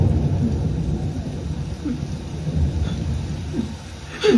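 Rain with thunder in a dramatic film scene: a steady low rumble of thunder rolls under a wash of falling rain, loud and sustained throughout.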